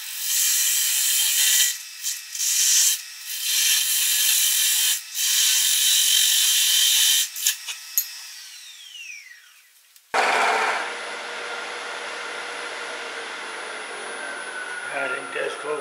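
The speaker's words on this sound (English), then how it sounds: "I'm going to go ahead and use a parting tool and cut it almost in two" A parting tool cuts almost through a turned wooden birdhouse piece with a loud, harsh scraping whine, then a saw finishes the cut with a steadier, grittier rasp, both heard close up.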